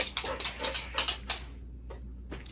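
A dog on a short leash inside an antique shop gives a few brief, fairly close whimpering or snuffling sounds in quick succession, then falls mostly quiet.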